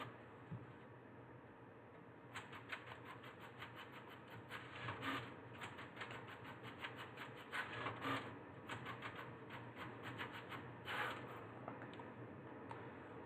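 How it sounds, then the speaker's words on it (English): A home printer runs by itself, unprompted, with a rapid, chattering mechanical rhythm of print-head passes and paper feed under a steady low room hum, fairly close and moderately loud for about eleven seconds. "my printer was just going off for some random reason"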